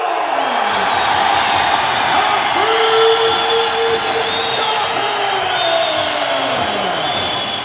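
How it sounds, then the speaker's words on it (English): A loud arena crowd at a Muay Thai event erupts in sustained cheers, whoops and yells after a unanimous decision in a WMC Super Light Heavyweight regional title bout, a dense, steady roar throughout. "The crowd uproarious in their appreciation of that performance"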